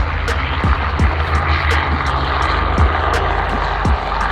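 Steady, loud rotor and engine drone from a helicopter coming in to land near offices, holding a constant level with faint periodic blade thumps throughout, no talking.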